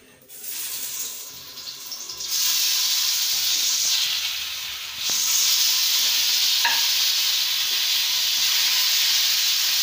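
Tomatoes frying in a pan, a steady bright sizzle that swells louder after a couple of seconds and again midway, with faint stirring scrapes and no talk.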